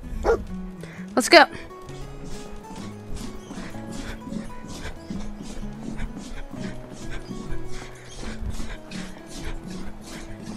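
Dogmeat the dog in Fallout 4 yips and barks, with sharp barks early, then softer whimpering and yapping over background music while someone speaks briefly.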